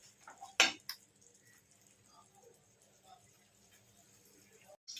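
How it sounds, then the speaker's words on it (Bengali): Utensil clinks and scrapes against a pan as a spice paste with ginger is stirred and fried, a couple of sharp knocks early then quieter scraping, with faint sizzle and a person talking. "আমি আর একটু জল দিয়ে দিচ্ছি, দিয়ে আগে মশলাটাকে ভালো করে আমি কষে নিচ্ছি"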